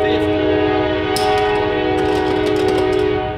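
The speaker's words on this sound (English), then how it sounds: "Sorry about the train warning." A loud, sustained train horn blares steadily throughout, its strong tonal blast layered with rumbling rail noise.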